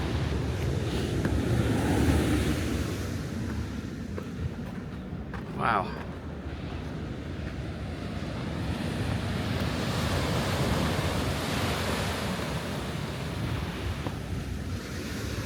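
Ocean surf surging below sea cliffs at Half Moon Bay, California, a loud continuous wash of waves mixed with heavy wind buffeting, with a person speaking briefly over it.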